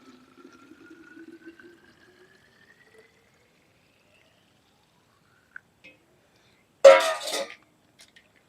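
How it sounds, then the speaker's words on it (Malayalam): Water being poured into buttermilk, a short loud splashing pour near the end after a faint low hum, brief and close with a couple of small clinks around it. "2 ഗ്ലാസ് മോരിന് പിന്നെ 4 ഗ്ലാസ് വെള്ളം ഒഴിച്ചു കേട്ടാ"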